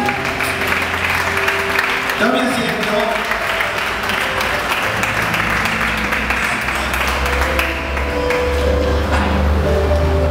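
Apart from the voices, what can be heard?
congregation applause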